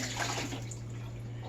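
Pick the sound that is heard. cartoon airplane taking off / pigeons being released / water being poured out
water being poured out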